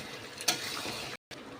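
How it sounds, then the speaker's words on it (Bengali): Chicken curry stirred in a pan after garam masala is added, a soft continuous scraping and sizzle with one sharper knock, then a brief cut to silence before the frying resumes. "গরম মশলাগুলো দেওয়ার পর আমি আবারও একটু নাড়িয়ে নেব।"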